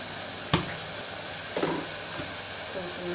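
Vegetables frying in a pan for veg biryani, a steady soft sizzle with a couple of sharp stirring clicks, fairly quiet and alone.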